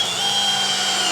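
A power drill drives a 50mm screw into a plaster ceiling with a steady, loud, close motor whine that holds without a break.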